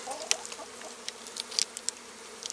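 Honey bees buzz around an opened hive in a backyard apiary, a soft steady hum with scattered sharper buzzes of individual bees flying close past, faint and without talk.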